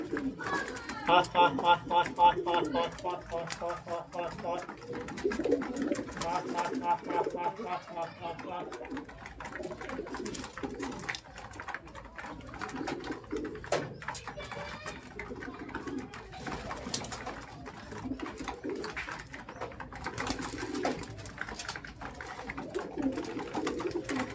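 Pigeons coo repeatedly in a low, throaty rhythm while eating grit, mixed with fluttering and chirpy bird calls, while a person talks over them.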